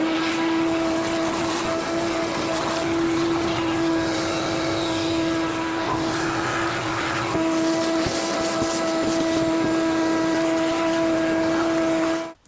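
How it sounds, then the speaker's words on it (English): A vacuum cleaner sucking pine needles and debris from a Ford F100 engine bay gives a steady, loud droning whine with a constant tonal hum, unbroken for several seconds, then cuts off abruptly. "I'm going to get the vacuum in here, just get all the gunk and stuff out of here"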